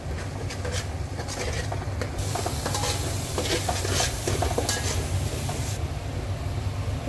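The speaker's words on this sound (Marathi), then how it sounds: "वाटण तेलावरच शिजवून घेऊया" Ground masala paste for a big crab curry cooks in hot oil and sizzles steadily. The frying hiss is continuous and close, with faint stirring scrapes and no voices.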